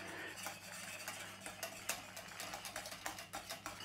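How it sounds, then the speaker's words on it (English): Polenta stirred in a pot with a spoon, a steady scraping and swishing with soft clinks against the pot, close and continuous over a low background hum. "So all you do is you just keep stirring it, keep moving it around so it doesn't sink to the bottom and it doesn't stick"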